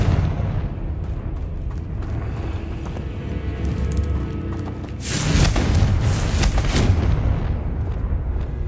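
A Confringo blasting spell goes off in Hogwarts Legacy, a loud broadband explosion bursting in around the midpoint and roaring on over a dense game soundscape of rumbling effects.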